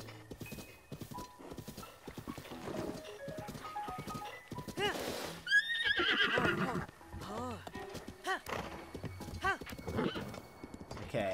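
Horse in Zelda: Breath of the Wild, steady clip-clop hoofbeats in a brisk rhythm followed by a loud neigh midway, with game music and a voice talking over parts.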